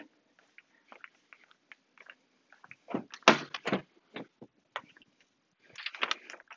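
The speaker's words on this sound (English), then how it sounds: "Get all four doors opened." A series of clicks and clunks from car door handles and latches as all four doors are opened, building to a louder thud of a door swinging open, then more rattling clicks.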